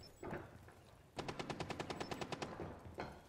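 Rapid automatic gunfire in the video game Rainbow Six Siege, a tight burst of about a dozen evenly spaced sharp shots after a few scattered quieter pops, fairly close and with no talking.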